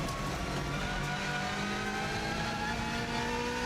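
A Subaru Impreza rally car engine revs hard as it accelerates uphill on the Isle of Man TT course, a loud, close, continuous roar with rising engine harmonics and faint tyre noise.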